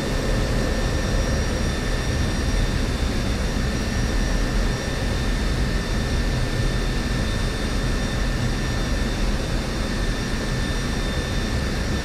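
An F-16 jet engine in the DCS flight simulator roars steadily after landing, a loud, continuous whine and rumble with tonal hum, no voices.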